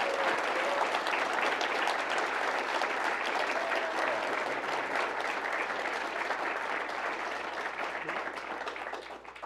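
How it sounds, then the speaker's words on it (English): Sustained audience applause at a political debate, a steady dense wash of clapping from a large crowd that holds strong throughout and tapers slightly near the end, with no talking over it. "can we just give a round of applause to these two gentlemen for doing this?"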